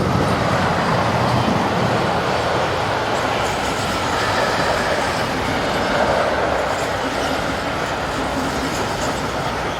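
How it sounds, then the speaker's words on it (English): A freight train of wagons hauled by locomotive 187121, running from Nuremberg to Hannover Elze on the German main line between Northeim and Hannover, passes close and loud with a steady, continuous rumble and rattling wheel noise throughout. "Wagon freight trains appear roughly every 90 minutes or so, such as train 51685 from Nuremberg to Hannover Elze"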